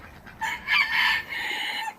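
A very small rooster on a farm crows once, a bright, strained call that rises, dips, and holds for about a second and a half, heard close by with nothing else competing.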